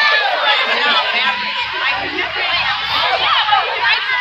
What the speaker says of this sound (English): Oh, yeah, big crowd of people.